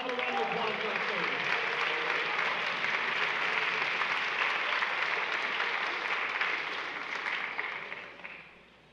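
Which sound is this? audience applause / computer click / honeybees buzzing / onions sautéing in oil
audience applause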